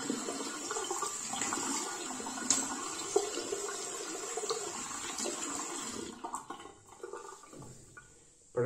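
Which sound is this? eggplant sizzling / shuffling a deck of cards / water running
water running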